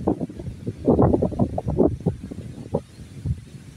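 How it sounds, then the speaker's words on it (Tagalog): Strong gusty wind buffets the microphone over a vegetable garden, a continuous low rumbling roar that swells and eases. "Binabayo ng malakas na hangin."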